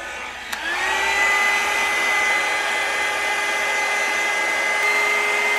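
A heat wand on a cool setting blows steadily to dry watercolour paint on handmade cards, switching on after a click into a loud, even whirring hiss with a high whine that holds for several seconds.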